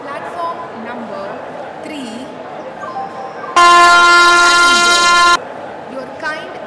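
Bharuch Express with a double engine sounds a loud, steady horn blast of nearly two seconds at a railway station, between quieter stretches of background voices and station noise.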